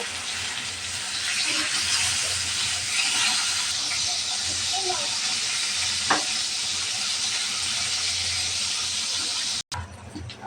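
Koi fish sizzle steadily in hot oil in a pan after being turned over. The close frying hiss carries a few small pops and a soft knock, then cuts out abruptly near the end before resuming briefly.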